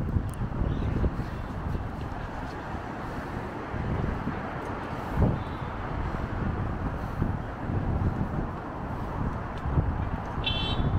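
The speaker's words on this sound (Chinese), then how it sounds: "风很大" Strong wind buffets the microphone while cycling along a lakeside road in Xiamen, producing a steady loud low-frequency roar with gusty swells throughout, and no talking.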